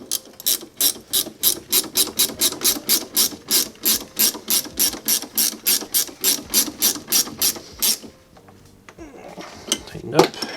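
A ratchet wrench clicks rapidly in steady repeated bursts while tightening the rear brake bolts on a G20 car. The ratcheting is close and loud for about eight seconds, then gives way to quieter handling noise.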